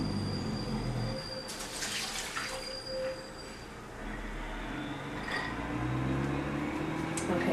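Water from overnight-soaked almonds drains out in a splashing, trickling pour, with uneven bursts of gurgling and spatter over a low background rumble.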